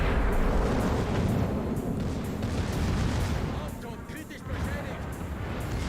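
Warship secondary guns firing in World of Warships, a dense, continuous barrage of booming shots rolling together at close range, briefly easing before resuming.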